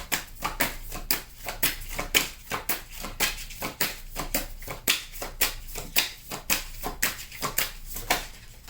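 Tarot cards are shuffled by hand close up, a long series of crisp riffling bursts repeating at a quick, fairly regular pace of roughly two per second, with no talk over them.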